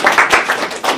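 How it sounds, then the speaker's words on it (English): Brief scattered applause from a small audience, a few sharp claps in uneven bursts, close and moderately loud, ending a cardiac unit nursing careers talk. "Let's give her a round of applause."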